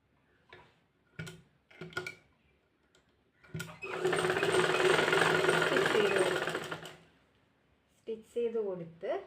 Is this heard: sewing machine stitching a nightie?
yes